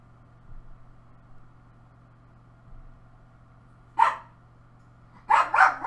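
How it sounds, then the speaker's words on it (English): Pet dog named Noah barking in the background of a room, one sharp bark followed by a cluster of several quick barks, moderately loud against a quiet low hum. "I got a dog named Noah and some hillbilly neighbors who like slam doors, so you will sometimes hear him bark in the background"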